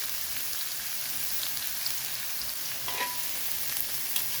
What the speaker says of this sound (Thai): ผัดพริกให้หอมก่อนนะคะเพื่อนๆ